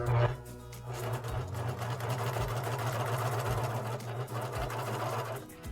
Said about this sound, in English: And then you're going to serge each of these seams.